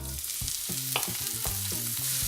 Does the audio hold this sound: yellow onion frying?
yes